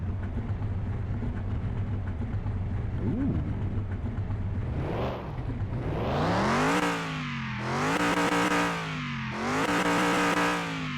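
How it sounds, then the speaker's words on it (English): A 1970s Dodge Challenger engine in Car Mechanic Simulator cranks over and catches, then revs in three loud rising-and-falling sweeps close by, each pulling high before dropping back to a rough idle, with a brief exclamation from a voice. "start the car"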